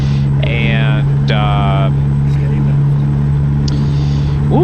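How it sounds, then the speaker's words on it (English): Loud truck engine idling with a steady low drone and tonal hum, close by, with a voice speaking over it. "ooh, this truck's loud."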